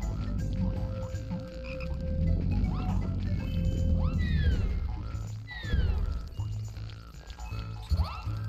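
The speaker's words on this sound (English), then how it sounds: "Actually, what am I doing? I can bait these frogs away." Frogs croak in the Pikmin 2 video game, a busy layered chorus of calls over steady game background music, with rising chirps and warbles scattered throughout and no talking.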